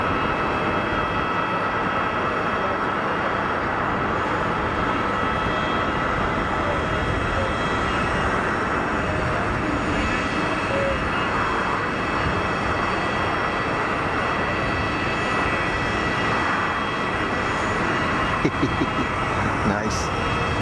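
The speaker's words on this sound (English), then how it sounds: "This is the Turkish 321, I think." A Turkish Airlines Airbus A321neo jet passing at an airport, a loud steady broadband roar that fills the whole stretch without letting up, with people talking over it.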